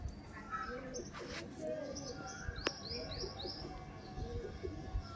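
A female tournament pigeon at a loft cooing in repeated low, throaty phrases, mixed with faint chirps from other birds while a person talks nearby.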